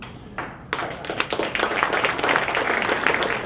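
Audience applause at an award acceptance speech starts with a few scattered claps, then swells into dense, sustained clapping from a large room that stays loud and steady.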